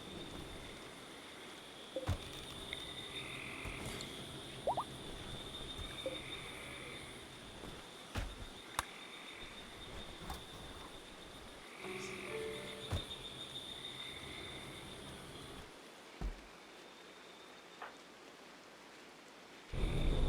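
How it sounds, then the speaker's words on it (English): Steady rain falls in the video game RimWorld, a continuous even hiss of patter across the whole stretch with a few faint clicks and no voices. "because it's in the rain"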